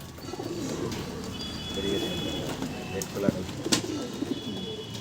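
Chotial pigeons, including a white-eyed hen, cooing in a low murmuring chorus close by, with a steady background hiss and a couple of brief sharp knocks.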